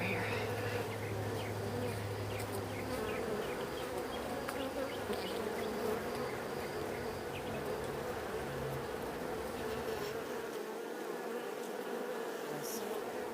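Honey bees buzz around a hive, a soft, continuous drone of many wings with individual bees passing close now and then, faint and steady throughout with no talk.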